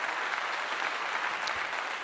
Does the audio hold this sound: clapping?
yes